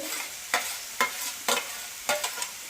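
Chopped bitter gourd, onion and green chilli frying in a pan in a small village kitchen, with a low steady sizzle broken by four or five sharp spatula scrapes at regular intervals, close and fairly loud.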